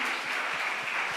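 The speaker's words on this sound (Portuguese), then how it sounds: "Você pode dar um aplauso a ele nessa noite?" A church congregation applauding, a dense, steady wash of many hands clapping at a moderate distance, filling the whole short moment without pause.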